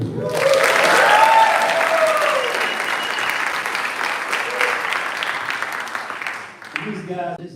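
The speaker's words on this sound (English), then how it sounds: "At the guitar, a round of applause for very talented Mr. Charlie C." Crowd at a jazz workshop symposium concert applauding the guitarist, a full sustained burst of clapping under an announcer's voice that thins toward the end as piano notes return.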